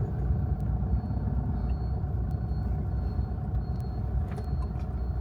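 A large truck rumbles through a town street, a steady heavy low engine drone with road noise that stays loud and close throughout, and a faint high hiss near the end.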